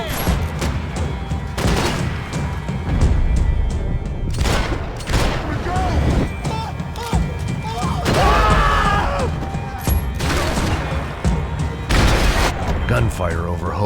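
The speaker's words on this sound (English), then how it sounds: "Gunfire over Hoboken." Gunfire in the video game Max Payne 3, a dense fusillade of repeated shots and booms in a loud, continuous mix, with a voice speaking over parts of it.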